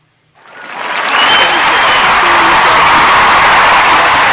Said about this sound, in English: I got to give you a clap right now.